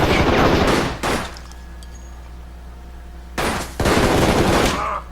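Pistol gunfire in the Xbox shooter Shadow Ops: Red Mercury, two loud, dense bursts of rapid shots separated by a quieter gap with faint background noise.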